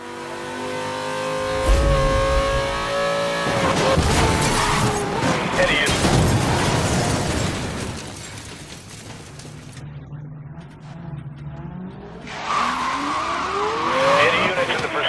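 An Alfa Romeo 4C Concept in Need for Speed Most Wanted revs hard and accelerates with loud engine drone, tire squeals, and sweeping pitch changes. It pauses briefly into quieter rumble before the engine surges again.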